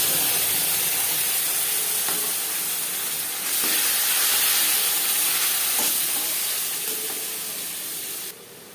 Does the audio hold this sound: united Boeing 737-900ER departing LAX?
no